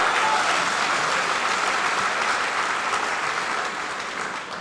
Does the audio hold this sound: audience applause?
yes